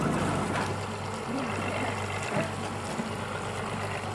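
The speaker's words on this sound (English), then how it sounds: "That's a 3-cylinder diesel engine. That's the engine that sucks the salt water out of the ocean" A 3-cylinder diesel engine on a harbor boat drives a pump drawing salt water from the ocean, giving a steady low droning hum with constant rushing water noise throughout.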